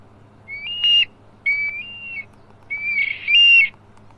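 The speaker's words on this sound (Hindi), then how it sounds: "ये मेरे ख्याल में जो ईगल है उसकी आवाज़ थी" Electronic bird caller playing an eagle call, used as a hunting caller: three shrill whistled screeches with rising, wavering tones, clear and close over a quiet low hum.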